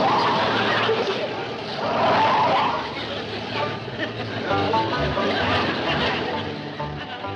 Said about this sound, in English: You ain't supposed to be driving that truck.